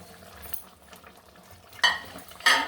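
Pointed gourd (potol) being stirred in a pan for a doi potol curry, with soft scraping and faint sizzle building to two sharp, close utensil scrapes near the end.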